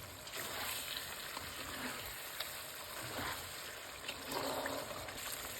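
Chicken sizzles and bubbles in a pan as excess water cooks off, with a steady frying hiss, occasional stirring noises and light pops throughout.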